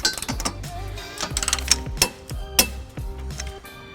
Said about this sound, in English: we're going to tighten each bolt down to the manufacturer specifications as detailed on the instructions